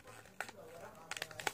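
Paper folded by hand into a fortune teller: a few short, close crinkling and creasing bursts, one brief rustle followed by a quick cluster of crisp crackles.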